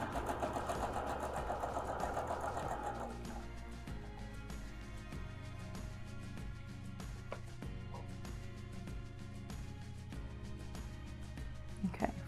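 A sewing machine stitching a quilt runs with a steady mechanical whir and rhythmic needle ticking, fairly close and continuous, with a brief louder burst near the end.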